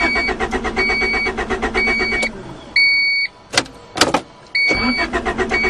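A 1991 Honda Accord engine cranks loudly in a rapid, even whirring rhythm, then stops. Short bursts and clicks follow, and the cranking resumes.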